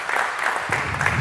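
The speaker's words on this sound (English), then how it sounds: "A little applause" Audience applause at a hacker conference talk, a short burst of dense clapping from a seated crowd that holds steady for just over a second.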